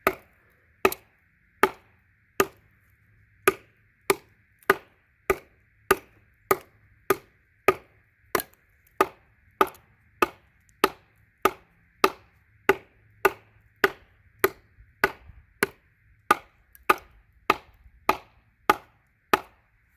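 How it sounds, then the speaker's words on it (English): Sharp chopping thuds from a Schrade SCHF37 knife striking into a wooden log at a steady rhythm, roughly two per second, loud and close, with a faint hum underneath. "Chopping into the log here?"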